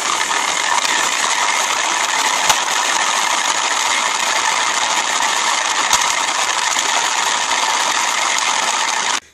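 A drill-powered planetary gear mechanism in a homemade oscillating spindle sander whirs loudly and continuously, a steady mechanical drone with faint gear ratcheting, broken by a couple of sharp clicks before stopping abruptly.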